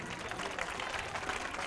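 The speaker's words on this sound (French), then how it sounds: "On l'applaudit fort." An audience at a school ceremony at École Fondamentale de Madina Alahery applauds, a dense, continuous wash of many hands clapping that sounds somewhat distant and quiet.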